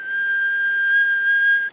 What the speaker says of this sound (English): we just hear this whistle that pierces the quiet of the night